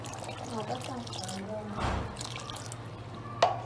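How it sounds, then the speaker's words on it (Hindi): Water goes into biryani masala sizzling in a pot, a short gurgling pour near the middle over a steady cooking hiss, with a voice faintly audible at the start and a sharp clink near the end. "अब इसमें मैं थोड़ा पानी डालूंगी।"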